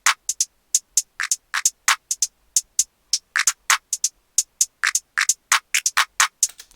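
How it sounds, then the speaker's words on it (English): A programmed new-jazz drum beat of crisp hi-hats, finger snaps and claps plays alone as a steady, busy pattern of sharp, bright hits with short gaps. "The hi-hats, the snap, and the clap together sound something like this."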